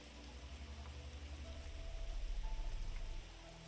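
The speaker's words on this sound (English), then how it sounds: "hear that heavy rain on the leaves." Heavy storm rain pattering steadily on woodland leaves, a dense, even hiss of drops that swells slightly before easing off.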